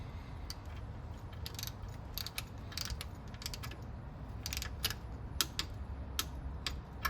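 Torque wrench tightening a bolt on a Mustang V6 engine during an overhaul, a quiet series of fast ratcheting clicks in short bursts over a low background hum.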